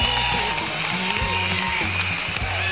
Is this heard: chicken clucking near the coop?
no